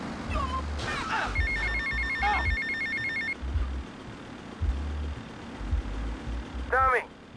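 A telephone rings in GTA Vice City, a run of bright electronic trilling bursts over low engine rumble and game ambience, with a brief burst of voice near the start and a chirpy sound effect near the end.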